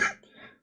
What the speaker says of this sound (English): I couldn't cover that cough.